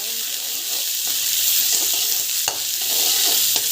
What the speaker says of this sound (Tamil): ஆயில் வந்து நல்லா காஞ்சி பிறகு கட் பண்ணி வச்ச வெங்காயத்தை வந்து ஆட் பண்ணிக்கலாம்